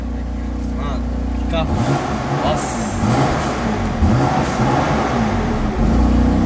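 A BMW V6 biturbo engine idles with a deep rumble, then revs up and holds a rougher, louder drone under people talking close by.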